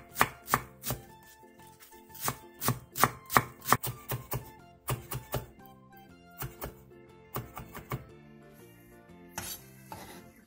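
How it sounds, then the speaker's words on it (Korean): A knife chops a handful of green onions (scallions) on a cutting board in a run of quick, sharp, close knocks, a few bursts of rapid strokes broken by short pauses, with no voice. "쪽파 한 줌을 오징어와 비슷한 크기로 잘라주세요."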